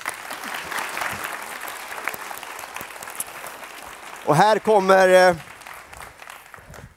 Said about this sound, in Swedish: Tack panelen, en varm applåd.